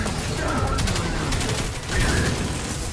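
Gunfire in the Destiny 2 beta story mission, a dense, steady burst of shots filling the clip at close range, with faint voices underneath.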